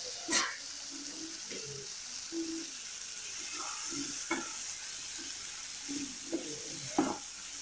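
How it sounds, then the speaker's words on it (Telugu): Drumstick pieces fry with ginger-garlic paste in a pan, a steady close sizzle with a few sharp clinks and scrapes of stirring scattered throughout. "ఒక కప్పు మునక్కాయ ముక్కలను వేసుకొని కలుపుకొని 2 నిమిషాలు ఫ్రై చేసుకోవాలి."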